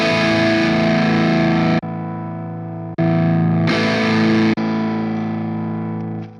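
Electric guitar played through a preset on a Hotone Ampero guitar processor, heavily distorted sustained chords with effects, switching quickly between several tones in loud back-to-back segments with no gaps.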